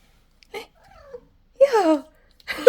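A cat meows several times close by, a short call followed by a longer drawn-out wail and another sharp meow, with quiet gaps between.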